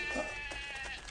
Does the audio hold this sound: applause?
no